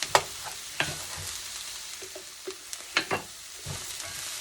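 Vegetables sizzling as they soften in a soup pot, with a series of sharp scraping stirs and clatters of a spoon against the pot over a steady frying hiss.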